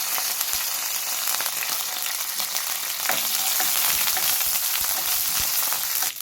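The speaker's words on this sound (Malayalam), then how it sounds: "എണ്ണ ചൂടാകുമ്പോഴേക്ക് 1 ടീസ്പൂൺ കടുകിട്ട് പൊട്ടിച്ചു കൊടുക്കാം." Mustard seeds splutter and crackle in hot oil in a pan, with curry leaves and a dried red chilli added, a dense, loud, continuous sizzle with sharp popping bursts throughout and no talking.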